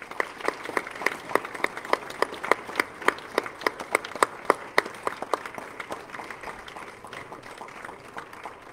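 A church congregation applauding during a Sunday worship service, a modest crowd clapping in a fairly even rhythm of distinct sharp claps that build a little and then thin out toward the end.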